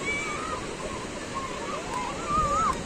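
Sea water washes ashore at Murudeshwar beach in a steady, even rush of surf, with faint voices drifting in the background.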